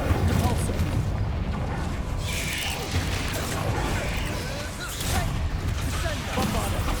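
Spell explosions in the video game Hogwarts Legacy boom and crackle in rapid bursts alongside mechanical clatter and creaks, with a voice calling out over the loud, busy combat.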